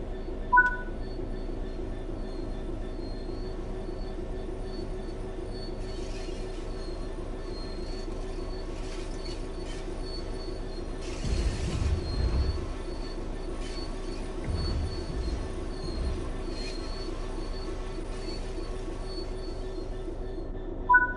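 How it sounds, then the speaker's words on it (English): A train in the Train Sim World 3 video game brakes to a complete stop. A steady rail rumble carries on throughout, with a louder burst of squealing and hissing near the middle and a smaller one soon after. "Bring this train to a complete stop by holding the brake control in the apply state"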